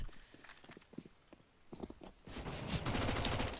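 Galil rifle gunfire in a Counter-Strike match: scattered quiet clicks and footsteps, then a loud, dense burst of rapid automatic fire that continues to the end.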